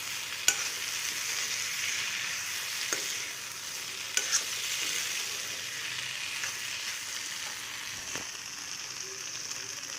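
Food sizzles and fries steadily in a pan while being stirred, with a few sharp clinks and scrapes of the utensil against the pan over a constant bright hiss; no voices.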